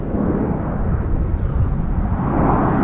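A departing airliner at Toronto Pearson Airport roars steadily and loudly, a broad continuous engine rumble heard from fairly close with no talk over it.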